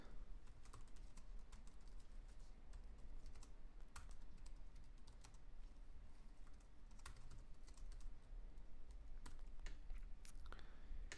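Ad text is typed on a computer keyboard as soft, steady keystrokes that go on throughout over a constant low background hum.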